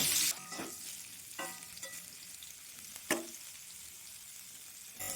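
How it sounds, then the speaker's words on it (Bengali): Cauliflower pieces fry in oil in a pan, a continuous close sizzle punctuated by a handful of spatula scrapes and knocks against the pan, with no one speaking. "মাছ ভাজা আমি তুলে নিয়ে আমি ফুলকপিগুলো ভেজে নেব।"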